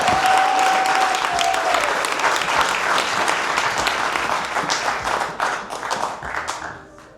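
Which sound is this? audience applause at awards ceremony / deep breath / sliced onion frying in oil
audience applause at awards ceremony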